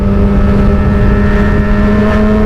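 A Kawasaki ZX25R motorcycle fitted with an aftermarket exhaust, its engine running loud and close with a steady, throaty drone and strong low rumble that holds throughout.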